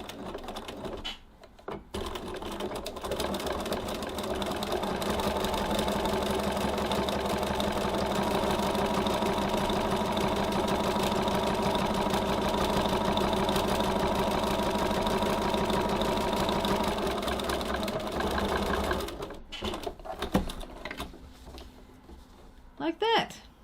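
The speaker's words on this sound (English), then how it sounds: "I'm going to stitch approximately 2 millimeters, 1/16 from the edge, just really close to the edge" Sewing machine top stitching close to the edge of a tote bag slip pocket, a steady, close mechanical whir running continuously for about eighteen seconds, with brief quieter gaps at the start and end.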